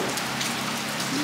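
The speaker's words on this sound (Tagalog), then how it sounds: "Lakas pa rin ng ulan." Heavy rain pours steadily on a roof and surfaces at Christmastime, a dense, continuous hiss with scattered drops, loud and unbroken with no voices.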